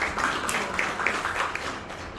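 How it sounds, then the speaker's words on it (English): Audience applause for a speaker at a school interns' farewell event: a steady wash of many hands clapping at moderate volume throughout, with a few sharper individual claps poking out. "So a big hand of applause for her"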